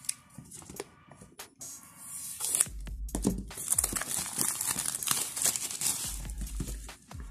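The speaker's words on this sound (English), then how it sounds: "Let's go ahead and cut open the box." Cutting open the box of a Redmi Note 9 Pro phone: close, quiet crinkling and scraping of cardboard and plastic with short tearing bursts, building louder over several seconds, with no one talking.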